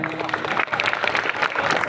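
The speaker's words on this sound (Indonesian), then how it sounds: "Kita tepuk tangan" Steady applause from a crowd as a guest is called to the stage, dense clapping that holds at an even level throughout with no clear talk over it.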